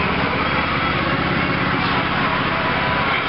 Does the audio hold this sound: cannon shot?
no